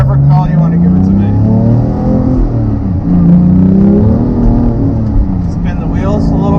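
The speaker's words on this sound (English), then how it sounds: "Spin the wheels a little bit there." A 2018 Porsche 991.2 911 GT3 with manual gearbox spins its wheels on a damp road, the engine revving loud and close with rising and falling pitch sweeps throughout.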